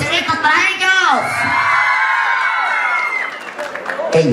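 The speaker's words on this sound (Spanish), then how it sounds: "¡Aplausos y gritos para ellos!" Crowd at a jaripeo, a Mexican rodeo event, cheering and shouting loudly with whoops and yells, a steady dense roar throughout, a clapping burst at the end.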